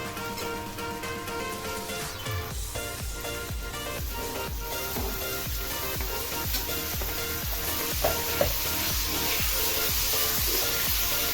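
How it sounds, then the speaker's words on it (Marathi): Finely chopped tomato sautés in oil with onion and ginger-garlic paste in a pan, a loud, constant close sizzle with a regular scraping rhythm of stirring throughout and no talk. "ही छान अशी परतायची आहे तेलामध्ये कांद्याबरोबर त्याच्याबरोबरच लगे बारीक केलेलं टोमॅटो"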